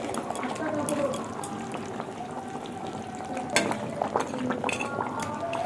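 Catla fish curry bubbles in a pan as the fish pieces go in, a close simmering and frying crackle with scrapes of a utensil against the pan and a person talking over it.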